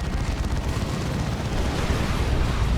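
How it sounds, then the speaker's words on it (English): Missile barrage explosions in the Dawn of War 2 strategy video game, a dense continuous rumble of overlapping blasts and booms with no clear gaps between impacts. "Missile barrage hits an object."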